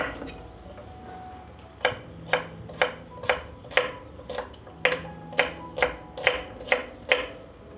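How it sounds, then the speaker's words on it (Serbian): Steady, close knife strikes chop a head of garlic on a cutting board, about fourteen sharp taps after a brief quiet start, with no speech. "iseckat ću 1 glavicu belog luka"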